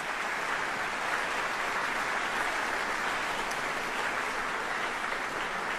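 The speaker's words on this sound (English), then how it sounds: "let's give them a round of applause for actually being here and supporting our retirees." A crowd at a military general officer retirement ceremony applauds the attending family members, producing a dense, even wash of clapping that stays steady for several seconds with no voices above it.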